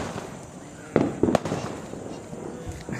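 Diwali firecrackers burst in the background, a few sharp pops and crackles clustered near the middle, moderately distant against a quiet outdoor night ambience.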